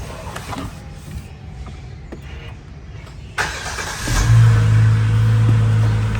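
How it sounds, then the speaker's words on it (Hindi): 2021 Kia Carnival GLS+ engine starting: a quiet cabin, a click and a brief cranking whir, then the engine catches and settles into a steady, close idle hum. "सबसे पहले हम गाड़ी स्टार्ट करते हैं।"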